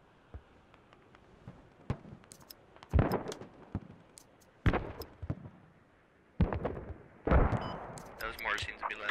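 Mortar fire in the military shooter Squad: four heavy, separate blasts a second or two apart, each with a rolling tail, among scattered distant gunshot cracks over a quiet background.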